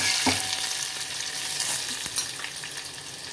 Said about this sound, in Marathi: आता लसूण आणि कढीपत्ता जरा लसूण थोडा लाल होऊन द्यायचा